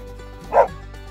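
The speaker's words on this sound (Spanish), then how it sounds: "Es el perro guía y me ayuda también a arriar estos caballos" A herding dog that helps drive horses gives a single sharp bark, fairly close, over a steady low background hum.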